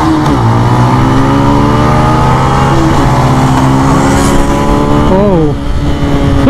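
Benelli 150i and Suzuki GS 150 SE 2019 motorcycles rev hard in a drag race, loud and close, with engine pitch climbing through several gear shifts and a dip near the end.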